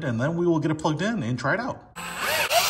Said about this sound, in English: you're drilling those screws right into some hard plastic